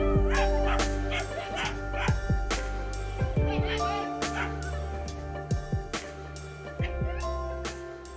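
Several sled dogs bark, yip and whine at close range in busy, overlapping bursts, the chorus continuing steadily throughout with no talking.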